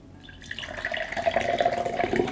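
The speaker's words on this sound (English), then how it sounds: "It gives a nice kind of funnel of water, so it's very accurate to use if you are putting it into an arrow glass" Water pours from a LARQ filter pitcher into a drinking glass, starting quietly, then running as a steady, close splashing stream that grows slightly louder as the glass fills.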